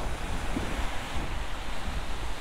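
Strong wind at a seaside campsite in Lobo, Batangas roars steadily and buffets the microphone, with surf noise mixed into a dense, unbroken rush.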